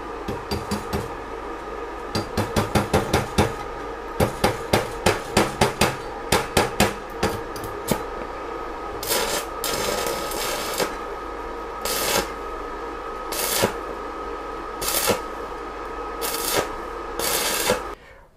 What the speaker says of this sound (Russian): Можно колотить несколько секунд электрод, и дуга при этом так и не зажигается.